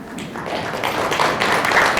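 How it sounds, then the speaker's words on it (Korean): Audience at an economic forum and newspaper anniversary ceremony giving welcoming applause, a steady patter of many hands clapping that builds slightly louder over a couple of seconds. "환영의 큰 박수 부탁드립니다"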